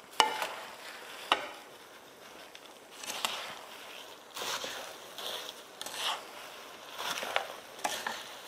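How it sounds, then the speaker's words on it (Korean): Ingredients are stir-fried in a pot, giving a soft, low sizzle broken by intermittent scraping and stirring strokes that come in irregular bursts at close range, fairly quiet overall. "이 정도 볶으면은 다 볶아진 건데"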